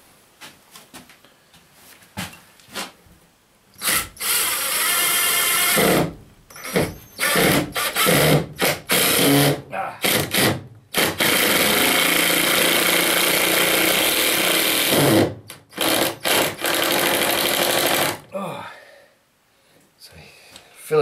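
Power drill driving screws into a 2x4 in an off-grid wood shop while pegboard is hung, sounding as repeated loud bursts of whirring with short pauses between, interleaved with talk.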